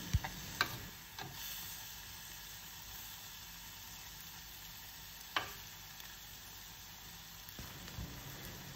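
Prawns fry in a tablespoon of coconut oil with turmeric for a Venad paal konju prawn dish, giving a faint, steady sizzle punctuated by a few sharp clicks and taps of stirring, with no voices.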